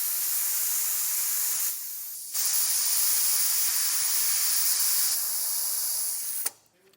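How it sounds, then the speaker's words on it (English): Compressed air hisses into Pacbrake Alpha HD rear air bag suspension bags on a 2025 GMC truck, a loud, steady hiss that dips briefly, resumes, then cuts off abruptly at the end. "So I'll put air in both the bags."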